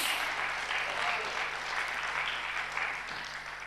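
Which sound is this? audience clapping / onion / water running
audience clapping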